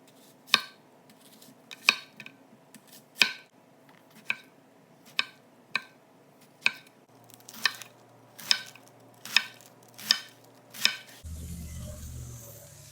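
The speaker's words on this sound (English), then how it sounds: "chop that prep up real quick" Knife chopping burger toppings on a cutting board for a southwest burger: about eleven sharp, evenly spaced chops, close and alone, ending in a short burst of handling noise.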